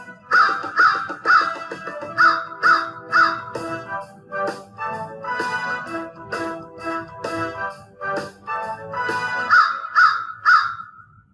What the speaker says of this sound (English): So what kind of bird is this? That's right, this is a crow.